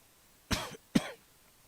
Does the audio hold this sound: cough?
yes